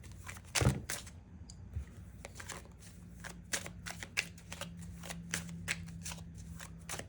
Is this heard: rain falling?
no